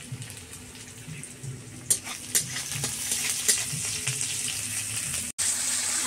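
Fish head frying in oil in a pan in an Indian village kitchen, a steady sizzle throughout, broken by a few sharp clinks and scrapes, with no talking.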